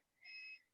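A single short electronic beep from a workout interval timer, a clean tonal bleep lasting about a third of a second, faint against a quiet room.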